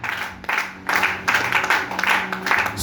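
A church congregation cheers and applauds for Jesus, with waves of clapping and raised voices that swell and recede in several loud bursts.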